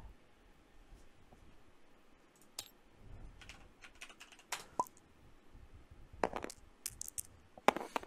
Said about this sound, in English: One of the dice fell out of the box.